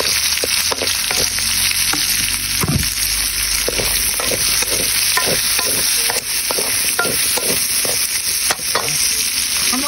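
Garlic and onion sauté in a pan for Ilocos pakbet with bagnet, a steady loud sizzle broken by frequent scraping strokes of a spatula, with no talking.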